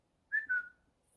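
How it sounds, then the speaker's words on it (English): A person whistles a short two-part tone, rising then sliding down, close by during a paranormal investigation at night, alone with no talk. "Can you whistle like I just did?"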